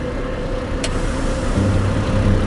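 A Kenworth T880 dump truck's diesel engine runs steadily at close range, a continuous low rumble that deepens slightly toward the end.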